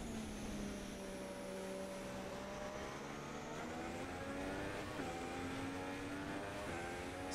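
F1 race car engine in the F1 2016 racing game at the Mexico circuit, a steady whining drone that climbs in pitch through gear changes, moderately loud and unbroken, with no voices over it.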